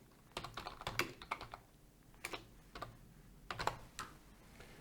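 Typing on a computer keyboard to enter a comment, irregular bursts of quiet key clicks with short pauses between, close and alone without any voices.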